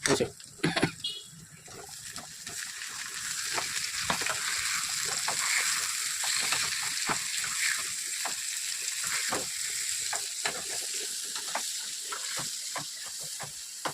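Tomatoes frying with softened onions in a pan for an egg curry, a steady close sizzle with frequent spoon scrapes and stirring clicks throughout, a few louder knocks near the start.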